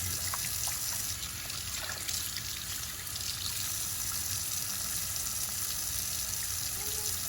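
Tomatoes washed in a sink of water with a little vinegar, a steady close trickle and splashing of water that runs on without pause, and no voices.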